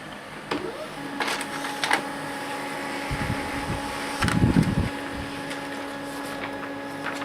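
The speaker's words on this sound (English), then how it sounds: "So let's print this off, and this is probably going to probably kill my printer" A Samsung ML-1675 laser printer prints a page, giving off a steady mechanical whir with scattered clicks and a louder clattering stretch partway through.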